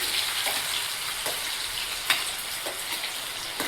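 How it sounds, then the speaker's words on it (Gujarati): Chopped onions sauté in a hot pan for pasta, giving a steady close sizzle and crackle with faint stirring scrapes throughout and no talk. "પ્યાજ નાખી પછી એને થોડુંક સોતે થવા દઈશું"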